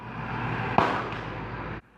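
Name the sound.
12-gauge shotgun firing rubber bullet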